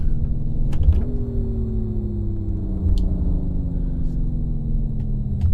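A BMW M3 in the racing sim Assetto Corsa rumbles close up on a track day, its engine note jumping sharply then easing down in a long steady drone, with faint clicks scattered over it.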